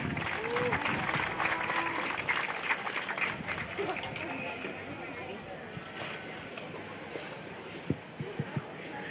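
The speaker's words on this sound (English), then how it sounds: "Let's give them a huge round of applause." Applause breaks out for young livestock show winners at a junior livestock show, a broad crowd patter mixed with voices and murmuring that gradually thins, with a few sharper claps and knocks near the end.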